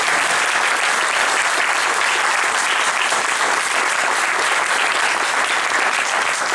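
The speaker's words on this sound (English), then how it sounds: "let's give Curtis a round of applause" Sustained, loud applause from a full audience for a guest presenter, dense clapping filling the room evenly without a break.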